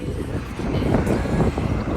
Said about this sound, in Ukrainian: Тут сонце, вітер такий сильний.